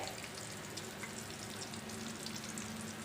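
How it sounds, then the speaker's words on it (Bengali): Eggplant pieces frying in a pan on a home stove, a steady close sizzle with faint stirring, no talking over it. "বেগুনটাই ভাজি করতেছি"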